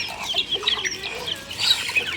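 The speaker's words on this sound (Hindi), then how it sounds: "ये वही मुर्गी है" A hen clucks steadily and close by on a rooftop during hot summer weather, with a busy run of soft, chattering fowl calls and a light background murmur.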